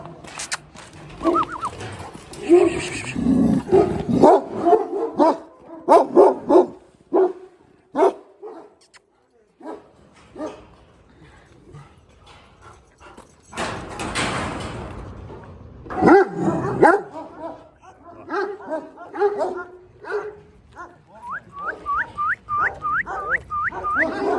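Kangal dogs, an old Turkish breed, bark on a farm in Sivas, with loud bursts spread unevenly across the scene and whimpering yips between them. People speak at times.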